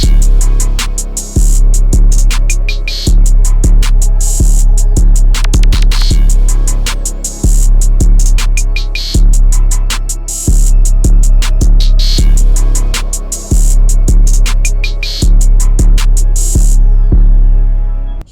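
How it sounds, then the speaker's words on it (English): A Chill Zone 2 synth in an FL Studio Chicago beat plays loud sustained chords over heavy deep bass and crisp rapid hi-hats, with regular chord changes and no voices, cutting off abruptly near the end. "All I added was that Chill Zone 2 synth"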